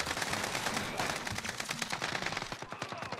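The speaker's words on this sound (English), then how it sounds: "that VLK shotgun saved my life" Rapid, loud, close gunfire rattles almost continuously in Call of Duty Warzone, a VLK shotgun and other weapons firing in dense bursts that break into separate shots near the end.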